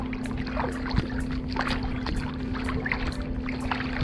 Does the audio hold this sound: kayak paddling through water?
yes